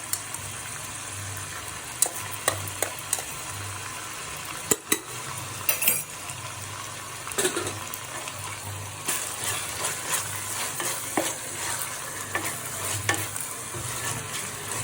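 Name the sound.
ginger garlic paste frying for veg fried rice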